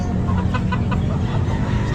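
A young rooster clucks at a busy outdoor pet market, its short calls mixed into a loud, dense background of crowd noise and other fowl.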